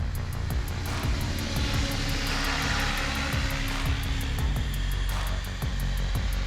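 Trex 500X RC helicopter in flight, a continuous loud whirring drone with rapid rotor chop, steady throughout with slight swells as it moves, no voices.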